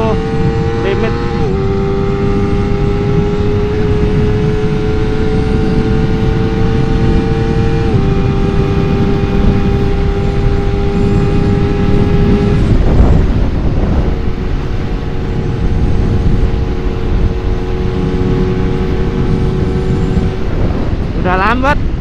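A Honda CBR250RR SP with quickshifter, in comfort mode, holds fifth gear near top speed, its engine a loud, steady high-rpm drone buried in heavy wind rush, with a brief dip and recovery in tone partway through.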